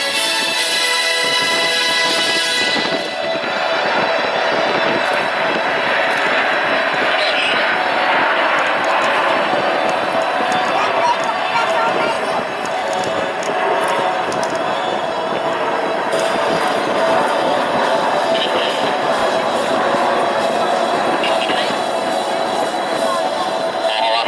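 Alpha Jet trainer jets of the Patrouille de France flying in formation at an air show in Plomodiern, giving a loud, sustained broadband roar that holds steady throughout with faint crowd noise.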